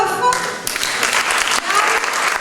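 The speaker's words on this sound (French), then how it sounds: "Merci d'applaudir Christophe," Audience at a French discussion event applauding, the clapping starting thin and quickly swelling into a full, close round with rapid overlapping claps.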